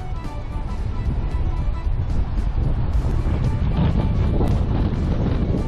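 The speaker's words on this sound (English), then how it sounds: "It's quite windy." Strong wind buffets the microphone continuously on a rugged hilltop trail near Goose Creek, New Brunswick, a loud rushing roar with gusty swells and no pauses.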